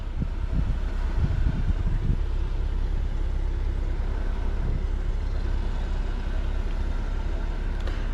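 A 2024 Jeep Wrangler Rubicon with a 2.0 automatic crawls off-road in first gear in 4 low, giving a steady, loud low engine and drivetrain rumble that runs throughout, with a few heavier thumps near the start.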